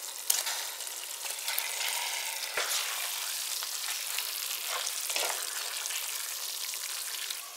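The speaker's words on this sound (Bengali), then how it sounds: "এবার এর মধ্যে আমি ভেজে রাখা চিকেনটাও অ্যাড করে দিচ্ছি।" Fried chicken goes into a pan of simmering gravy with the oil separated, producing a continuous, fairly quiet frying sizzle broken by a couple of sharp spatula knocks.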